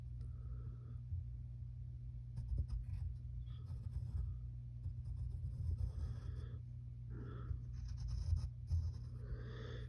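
Pencil scratching on paper in steady short strokes, drawing the horns of a cartoon monster, close and fairly quiet over a low background hum.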